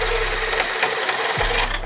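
A cordless drill running on a 1.5 amp-hour battery bores with a 7/8 inch Diablo Speedemon bit, giving a loud, close, continuous motor whir with gritty cutting noise and a brief pitch dip.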